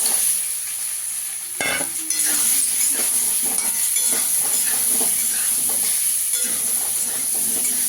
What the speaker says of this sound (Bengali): দিয়ে আমি আলুটাকে একটু ভেজে নেবো আগে।